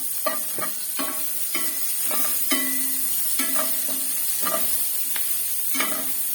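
Red onion frying in a pan for pork steak, a steady sizzle broken by repeated sharp stirring scrapes at an irregular rhythm, close and clear with no talk.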